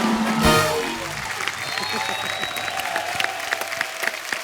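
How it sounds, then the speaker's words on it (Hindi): Audience applause for Govinda on a comedy talk show stage, a dense burst of clapping that rises sharply early, then carries on steadily as crowd noise, with talk mixed in. "जोरदार तालियां गोविंदा सर के लिए।"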